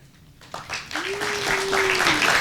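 An audience at the Children's Creativity Museum gives a round of applause during the Flor Y Canto Festival. The clapping swells from quiet into a steady, fairly loud patter that keeps building to the end.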